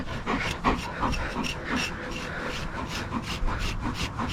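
Close-up rhythmic rubbing and scratching strokes through fur, repeated steadily with light panting or snuffling mixed in.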